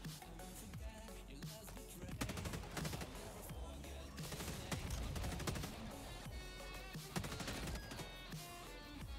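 Sustained gunfire in the co-op shooter Helldivers 2, dense rapid bursts of automatic shots cracking over a heavy rumbling battle din, steady and fairly loud throughout.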